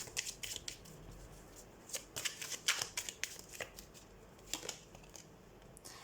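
Tarot cards being shuffled by hand, with rapid riffling bursts and soft slaps repeating through the stretch, close and clear with no talk over them.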